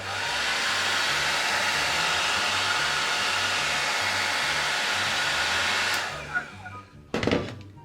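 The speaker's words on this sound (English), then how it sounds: "And then a hairdryer. Now it's gonna get loud" A hair dryer drying wig glue runs loud and steady with a constant whooshing roar, then cuts off near the end, leaving a few brief handling knocks.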